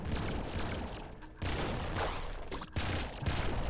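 Heavy blood rifle firing in the game Nuclear Throne, a dense loud stream of rapid shots and blasts with a few brief gaps between bursts, playing alone without talk.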